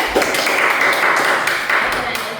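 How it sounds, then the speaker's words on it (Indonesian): Students in a classroom peer-teaching session applaud a presenting group, a short burst of close, crisp hand claps with possible voices mixed in. "aplaus kepada kelompok 3"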